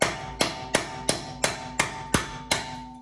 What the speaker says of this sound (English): make sure you hammer on it, get her in there